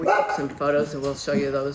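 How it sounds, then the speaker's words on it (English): Several dogs bark in short repeated bursts nearby in Mexico City's historic centre, the yaps running under and between a person's steady speech. "sorry about the dogs"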